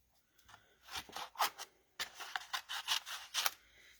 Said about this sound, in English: now the punch will cut out one banana for us